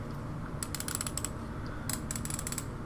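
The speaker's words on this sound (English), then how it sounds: "Very easy to move bezel on this one" Stainless steel Skywatch watch bezel being turned, giving two quick bursts of fine ratcheting clicks, close and crisp over a low background hum.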